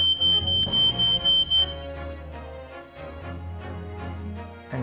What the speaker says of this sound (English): our fire alarm just went off and stopped